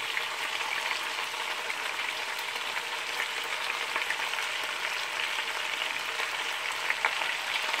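A large sliced onion frying on top of beef short ribs in a pan, a continuous even sizzle and crackle throughout with no voices.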